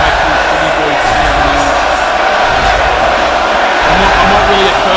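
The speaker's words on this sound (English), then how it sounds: "Do you hear this crowd?" Loud, steady roar of a wrestling arena crowd cheering and whooping in WWE 2K18, a dense continuous wall of noise with some voice-like murmur running through it.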